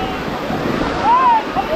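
Sea waves at Digha beach make a steady, loud, broad roar of surf close by, with a faint high tone briefly rising over it.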